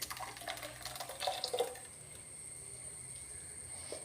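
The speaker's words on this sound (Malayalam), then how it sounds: "നമുക്കൊരു മൺചട്ടിയിലോട്ട് ഒഴിക്കാം" Thick fish curry masala paste is poured into a clay pot, giving soft wet plops and scrapes over the first second and a half before fading to a quiet, steady room hum.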